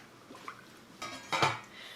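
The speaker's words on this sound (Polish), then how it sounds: "i stawiam garnek na palnik." A couple of metallic clanks as a pot of water is set down on a stovetop burner, close by, with quiet handling noise before.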